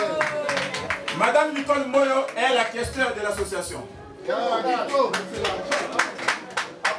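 An audience applauds at an association ceremony, bursts of hand clapping rising and falling beneath a voice announcing someone over the microphone.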